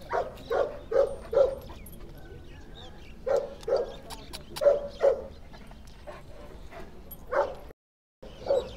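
Turkmen alabai dog at an outdoor dog market in Fergana, giving a series of short barks and yelps in clusters, moderately close, with a brief silent gap near the end.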